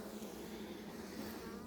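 Bees buzz steadily around a color-coded beehive on a farm or ranch, a dense, continuous hum with no pauses.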